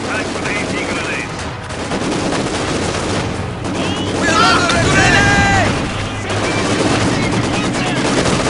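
Machine gun fire in the Company of Heroes 2 video game, loud sustained bursts of rapid gunfire crackling over a busy battlefield din, with a voice speaking partway through.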